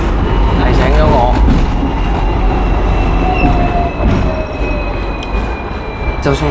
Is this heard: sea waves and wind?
no